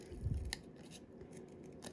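Scissors snip through paper during fussy cutting for a papercraft treat box, with a few close, quiet cuts and a soft rustle of paper.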